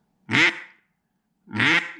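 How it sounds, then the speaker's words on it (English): A duck call is blown to make two separate loud, raspy quacks about a second apart, close and alone in silence. "how to blow a duck call, how to produce that quack"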